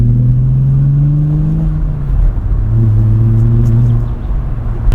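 A VW VR6 engine warms up with a deep, close rumble, its revs rising and falling in two smooth swells over a steady idle.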